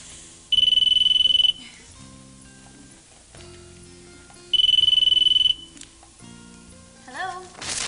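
A telephone rings in two loud, even electronic bursts separated by a pause, with music and other sounds underneath.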